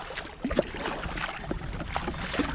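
Paddle strokes from a Sea Eagle Razorlite 393RL hard shell kayak on Saranac Lake, soft splashes and drips over steady wind and water noise, a few faint dips close to the microphone.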